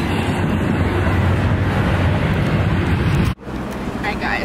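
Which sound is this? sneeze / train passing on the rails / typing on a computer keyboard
train passing on the rails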